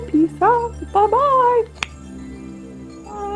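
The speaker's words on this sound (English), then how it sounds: "that's the sound of the cats" Cats meow indoors, several drawn-out rising and falling cries in quick succession, loud and close, with a brief clink and a voice speaking around them.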